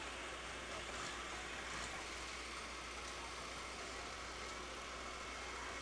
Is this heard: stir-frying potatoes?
no